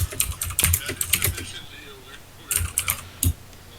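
Typing on a mechanical keyboard during a game session. Two short bursts of crisp key clicks sound close, with a quiet gap between them and faint background murmur.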